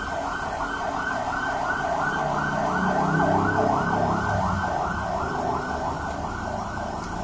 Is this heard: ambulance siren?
yes